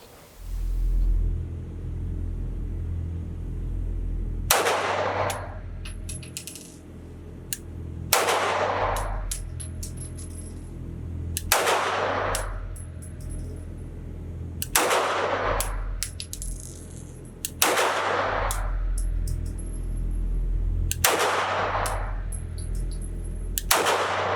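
A CZ 75 P-01 Omega Tactical compact pistol fired outdoors at a range, seven sharp, loud reports spaced roughly three seconds apart, each with a quick echoing tail and faint clinks of ejected brass between shots.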